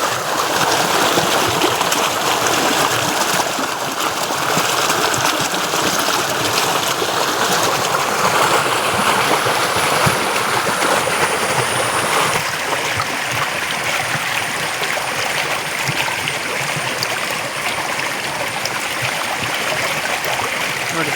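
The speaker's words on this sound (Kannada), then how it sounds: "ನೀರು ಹರಿತಾ ಉಂಟು" Steady rushing of fast-flowing floodwater, a dense continuous roar of water running close by without a break.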